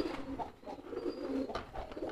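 Domestic pigeons, a male and a female, coo softly and repeatedly during handling with a cardboard box. The low, rolling calls sit over faint background noise with no talking.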